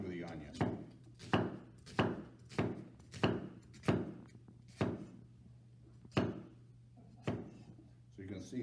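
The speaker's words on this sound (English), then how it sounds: "So I'm just going to cut relatively thin slices here, but I'm not going all the way through the onion." A knife slicing thin cuts through an onion on a cutting board, about a dozen crisp, evenly spaced chops close by, with a steady low hum underneath.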